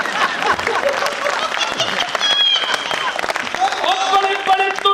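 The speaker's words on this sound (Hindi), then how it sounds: "ताली उठे" An audience at a Hindi kavi sammelan poetry recital claps in a steady round of applause while voices talk over it.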